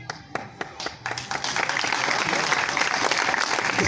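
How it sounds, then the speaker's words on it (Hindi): An audience claps during a Jain spiritual discourse, starting as a few scattered claps and swelling into steady, dense applause that fills the hall. "इसलिए तो ताली बजा रहे हो।"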